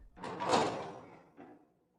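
A door opening in a narrated English-learning audio story, a single soft sliding creak followed by a faint click, heard alone and fairly quiet.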